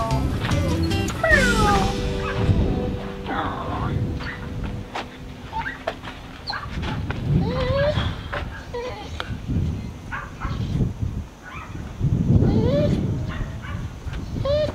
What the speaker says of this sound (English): Oh, little guard dog.